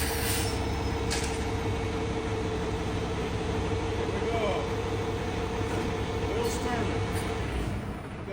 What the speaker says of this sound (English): Okay, go ahead and start the truck.